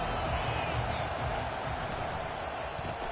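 Stadium crowd at a college football game roaring on third down, a dense, steady wall of cheering noise throughout, heard from within the stands with speech faintly mixed in.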